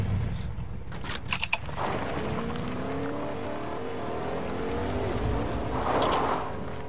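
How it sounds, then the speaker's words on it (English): A car drives in the video game Fortnite, its engine a steady midrange hum running through the whole stretch, with brief sharper bursts near the start and a louder swell toward the end. "Bro, I hear a car."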